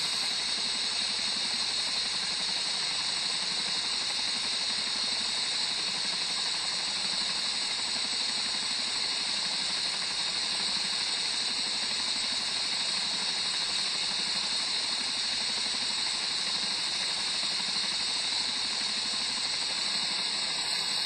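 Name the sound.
Ka-50 helicopter engines running after start-up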